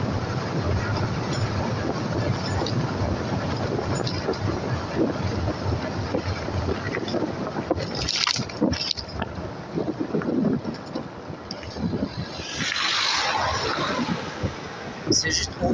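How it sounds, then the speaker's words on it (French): Electric motors of an S26 vehicle whir steadily during a ride over constant rushing wind and rumble, with someone talking over it and brief bumps and swells partway through. "c'est juste pour vous faire entendre le bruit des moteurs."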